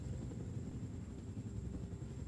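Helicopters in the video game Wolfenstein The New Order, a low, steady rotor rumble with a faint high whine, holding at an even level throughout.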